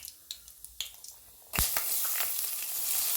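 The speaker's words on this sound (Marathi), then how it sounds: "जपून टाकायचं, हातावरती तेल उडू शकतं" Onion dropped into hot oil for dal tadka: after a few quiet clicks and taps, a sudden loud burst of sizzling and spattering erupts and holds steady at close range, with no speech.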